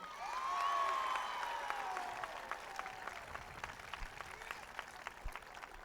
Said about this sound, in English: How about a big round of applause for Buddy Cianci?